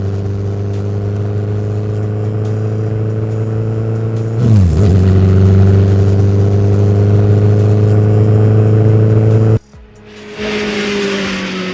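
Honda CB1300 Super Bol d'Or motorcycle, 2023 model, with a loud exhaust: a deep steady idle hum, a sharp rev that rises and settles, a sustained higher drone, then a sudden cut and a brief restart.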